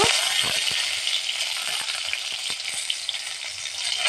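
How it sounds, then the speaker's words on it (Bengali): Cumin seeds and two dried chillies fry in hot oil in a kadai, a dense steady sizzle with faint spoon taps, close and alone. "জিরে ফোড়ন দিয়ে দেবো দুটো শুকনো লঙ্কা দিয়ে দেব"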